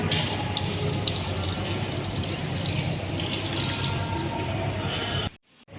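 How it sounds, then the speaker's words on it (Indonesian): Running tap water pours steadily and close by as hands are rinsed under it, with a continuous splashing flow that cuts off abruptly near the end. "Kemudian membilasnya dengan air mengalir."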